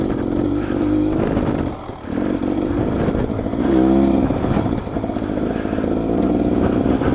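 Beta dirt motorcycle engine revving under throttle nearby, a loud rough mid-pitched drone that surges and dips with a few sharper rises, without talk.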